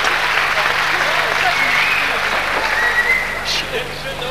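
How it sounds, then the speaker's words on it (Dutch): Broad, steady applause from the crowd at a 1983 Kyokushin karate tournament in Alkmaar, a dense even wash of clapping that dips slightly toward the end, with a voice mixed in. "Een enorm applaus."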